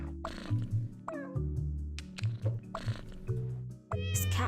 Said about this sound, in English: Does cat purring really sound like this?